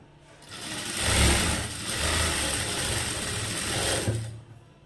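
A sewing machine runs steadily, stitching the folded open edge of a button piece of cloth, a continuous close mechanical whir that swells and holds for several seconds before tapering off, with no talk.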